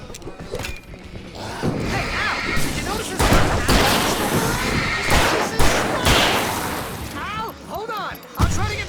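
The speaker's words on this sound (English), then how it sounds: "I can set off more of the fireworks from here and help you out!" Fireworks burst and crackle in Alan Wake Remastered amid a chaotic fight, with repeated loud explosive bangs and whistling shots layered under shouting voices.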